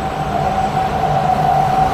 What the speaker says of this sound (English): Waiting for the train to go past.